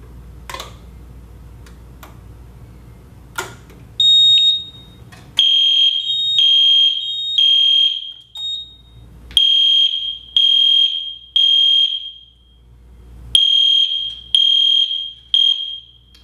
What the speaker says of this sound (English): You'll notice that when we tripped the alarm at the control panel, we did have both strobes in sync.